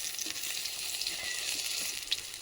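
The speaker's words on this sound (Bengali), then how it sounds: "আমাদের এখানে বেগুন ভাজা চলছে" Eggplant slices fry in hot oil with a steady, dense sizzle that holds level throughout, with a few small pops and crackles breaking through and no voices.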